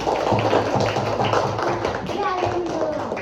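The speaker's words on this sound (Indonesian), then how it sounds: "Tepuk tangan." Clapping in a classroom, a burst of quick hand claps from several people close by, with children's voices talking over it.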